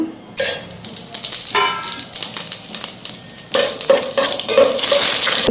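Whole biryani spices dropped into hot oil in a pot for a vegetable pulao, with bursts of sizzling and crackling, then louder sputtering and stirring clatter near the end, close by and with no talking.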